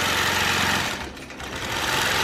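Longarm quilting machine stitching through a thick T-shirt quilt seam, a loud, steady, rapid mechanical chatter that dips briefly midway before resuming, with no talk.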